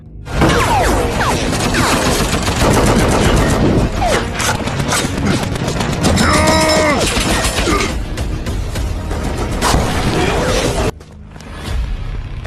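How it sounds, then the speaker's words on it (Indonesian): Gunfire in a film shootout between two armed groups, heard as a loud, dense action mix of shots, crashes and booms running almost continuously before dropping off near the end. "Sementara itu pasukannya Jin dan anak buahnya Song Pa terjadi adu tembak."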